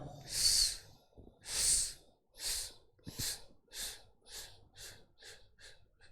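Someone doing a breathing exercise during an internal organs massage class lets out a series of about ten rhythmic, breathy exhalations, each starting strong and later ones growing shorter and fainter.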